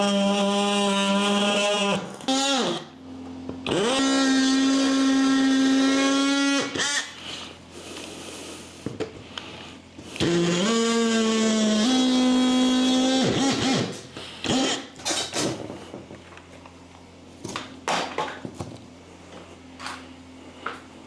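A power tool cuts a DIY wall panel in two long whining bursts that rise in pitch as the blade spins up, separated by quieter handling clatter and knocks.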